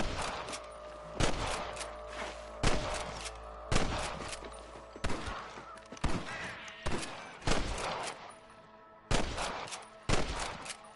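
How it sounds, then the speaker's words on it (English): In Red Dead Redemption, about a dozen sharp gunshots crack one after another at an irregular pace, with loud reports and echoing tails during a game shootout. "I can hear more gunshots."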